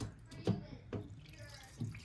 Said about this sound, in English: here comes a little bit of water